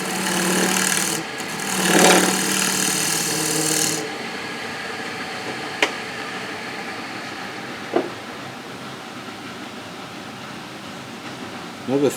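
A bowl gouge edge is stroked gently, giving a soft broadband rasping rub for the first few seconds, followed by a quiet stretch with a couple of faint isolated taps.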